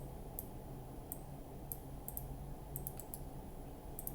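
Computer keyboard key presses and mouse clicks come as sparse, sharp, close taps scattered over a steady background hum, with no one talking.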